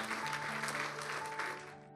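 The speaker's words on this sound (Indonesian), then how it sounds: "Yang siap boleh berikan tepuk tangan sekali lagi buat Tuhan Yesus." A church congregation applauds during a worship service, with steady clapping and faint tonal background sound, probably music, under it. The clapping fades toward the end of two seconds.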